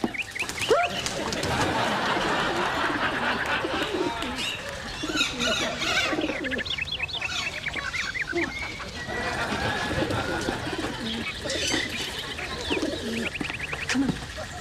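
Pigeons and other birds coo and cluck continuously nearby in a busy, overlapping chorus, with voices talking over them at times.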